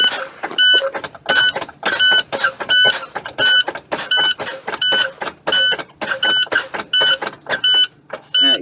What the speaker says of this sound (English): You hear that buzzer? That's my low air warning light and my low air buzzard.